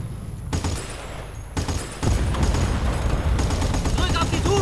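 Gunfire in Battlefield Bad Company 2 during Operation Aurora, a loud close fusillade of rapid shots and heavy thuds, starting sparse with pauses and then building into dense continuous firing with game sounds underneath.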